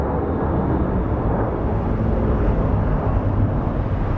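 A jet airliner departing Phoenix Sky Harbor International Airport for Detroit gives a steady, loud, broadband engine roar that holds constant throughout, heard from the ground with no voices.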